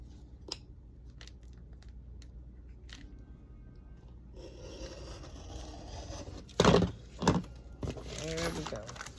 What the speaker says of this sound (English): I just want to cut some of this off the end.